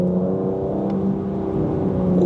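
A 2025 Aston Martin Vanquish engine revs loud and steady at close range, a deep sustained drone with rich harmonics, with no speech over it.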